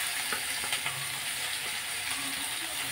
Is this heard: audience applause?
no